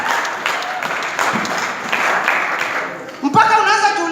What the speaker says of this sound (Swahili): Clap out for Jesus.